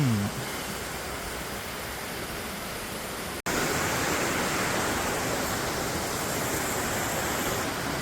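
Water from a waterfall at Adyanpara, fed down from above through a pipe, makes a steady, dense broadband rush that fills the whole scene, continuous and close, with one brief cut partway through.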